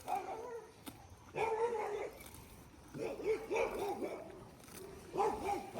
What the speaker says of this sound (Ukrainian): О, в сусідів дуже гарна собака